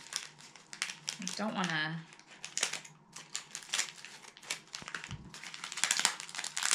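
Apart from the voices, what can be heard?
paper wrapping being handled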